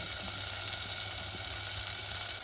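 Soaked potatoes dropped into a hot pan for an onion and potato curry, a steady loud sizzle and hiss of frying that holds evenly throughout.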